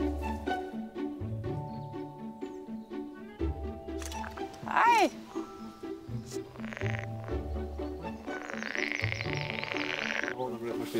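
Pool frogs croak in a pond, a dense, rhythmic chorus of repeated calls that pulses steadily and sounds fairly close throughout.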